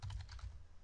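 Quick keystrokes on a computer keyboard while code is typed, a short burst of close, soft clicks.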